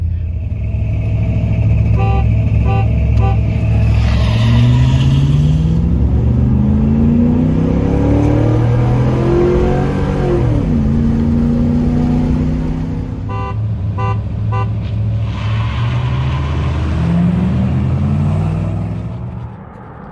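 A Chevrolet Silverado pickup with big brakes accelerating hard during a brake comparison, its engine rising in pitch through several gear shifts, easing off midway and then climbing again, with horn-like beeps at two points.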